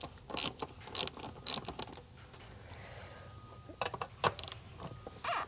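Ratchet working 10mm bolts on a Nissan Frontier engine, quick bursts of sharp clicking in short runs separated by pauses, close and alone.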